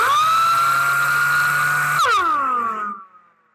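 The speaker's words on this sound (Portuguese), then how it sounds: "vou acionar a lixadeira pneumática. Vou abaixar um pouquinho a velocidade dela, para ela ficar menos ruidosa." A pneumatic sander runs at reduced speed with a loud, steady high whine, then its pitch bends downward and the sound dies away over the last second as the tool spins down.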